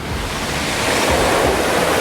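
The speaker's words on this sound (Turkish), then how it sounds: "Arkadaşlar şu an dalgadan dolayı gitmesi zor" Ocean waves and surf rush steadily with a windy roar at a beach during lifeguard work, loud and close, holding at an even level for about two seconds with no voices.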